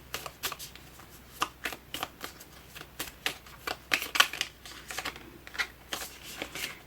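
Tarot cards are shuffled and drawn nearby, producing quick, light papery riffles and flicks in an irregular patter, fairly soft and close.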